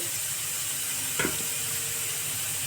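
Taro (arbi) and onions frying in a pan give a steady, close sizzle and hiss, with one brief stir or clatter near the middle.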